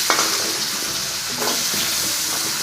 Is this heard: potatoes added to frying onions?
yes